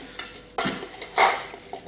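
A spoon scrapes and knocks against a pot as apple and pear crumble filling is stirred, making a few close, clattery strokes with wet, soft movement in between.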